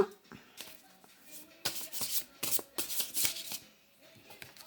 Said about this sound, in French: tirer 3 cartes de mon petit tarot, on va dire, égyptien